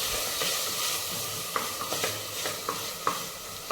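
Tomato pieces with ginger garlic paste are stirred in a sizzling pan, a steady close hiss broken by several soft scrapes of the spoon at irregular intervals.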